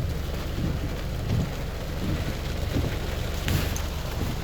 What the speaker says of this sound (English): Torrential rainpour.